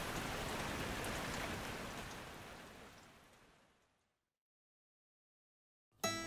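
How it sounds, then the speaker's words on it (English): Heavy rain pours outside a camper van in a loud, dense, steady hiss that fades out over a few seconds to silence, followed by a brief sharp noise at the end. "this was just the beginning of 2 weeks of constant rain"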